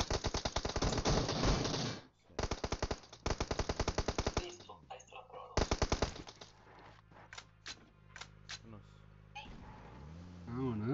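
Rapid automatic gunfire in a shooter video game comes as loud, dense bursts separated by brief pauses. Sparser single shots follow, all close and sharp over a low background rumble.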